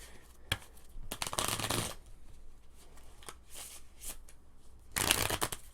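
Playing cards shuffled by hand during a tabletop Pandemic Legacy board game session, a quick riffle near the start followed by longer ruffling bursts of crisp card flutter, close and fairly quiet, with another short riffle at the end.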